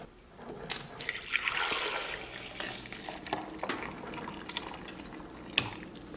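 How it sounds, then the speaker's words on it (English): Broth poured into a small container, a trickling, splashing liquid stream with a few drips and sharper splashes, close by and without talk. "I'm just going to pour the broth into my little container here."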